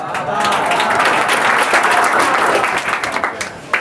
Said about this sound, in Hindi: अरे इतना ताली मारोगे तो और 2-4 को सुना देंगे।